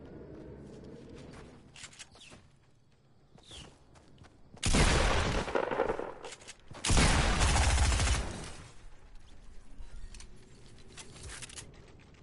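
Gunfire in a zombie event in a video game: two loud, sustained bursts of rapid shots, each lasting about two seconds and separated by a brief gap, over quieter scattered rustling and clicking.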